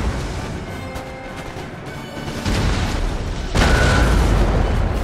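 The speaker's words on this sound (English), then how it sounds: "Let's be the cannon." Cannon and artillery fire in the Napoleon Total War battle game, a steady rumble of booming shots that grows louder in two stages, the last and loudest blast landing near the end.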